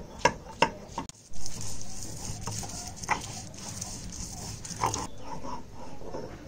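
Ginger and spices ground into a paste for Bengali-style dahi chicken: sharp knocking strikes and scraping of stone on stone, irregular and fairly close, with brief pauses between bursts.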